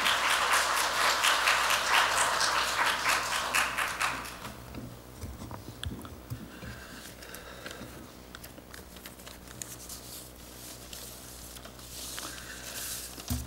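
A church congregation applauds to welcome a long-time member, brisk clapping for about four seconds that dies away into scattered claps and quiet room noise.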